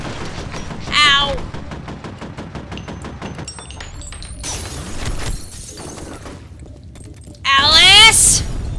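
Gunfire in the video game F.E.A.R. comes as a run of rapid, evenly spaced shots with sharp bursts and impacts. It plays under near-constant talk.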